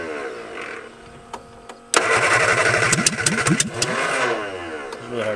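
A seized MG car engine being started after sitting for 42 years: quiet cranking sounds, then the engine catches and runs roughly with uneven, sputtering firing pulses, close and loud.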